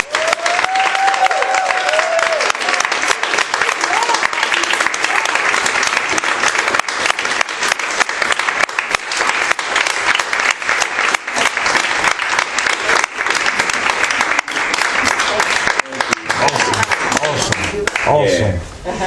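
An audience claps and cheers in welcome for the speaker Randall, loud sustained applause from a large crowd running steadily throughout with no break.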